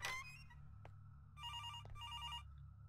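A phone in the horror video game Araya rings faintly in two short trilling bursts over a low ambient drone.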